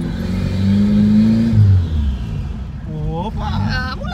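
A modified car nicknamed Gambi revs on its first test lap, its engine rising and falling in loud swells close by, with people talking over it.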